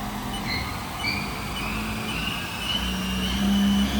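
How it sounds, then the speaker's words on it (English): A HAAS VF-3YT/50 vertical machining center, 2007, with its spindle ramping up in speed, a steady mechanical whir with thin tones that climb in pitch over a constant low hum. "Can we jog the spindle speed manually?"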